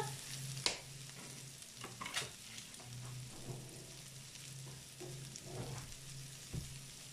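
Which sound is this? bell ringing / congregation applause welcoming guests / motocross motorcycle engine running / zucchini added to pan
zucchini added to pan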